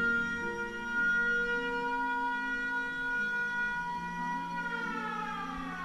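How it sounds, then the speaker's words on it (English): A wailing siren with a long, steady rising and falling tone, sounding somewhat distant and alone, with no talking. "And that's a siren."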